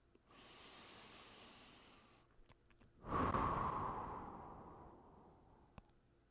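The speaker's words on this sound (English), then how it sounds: "we're going to take 5 deep breaths here." Slow deep breathing in yoga child's pose during postpartum breath work, close and soft: a long inhale followed by a louder, drawn-out exhale that fades away.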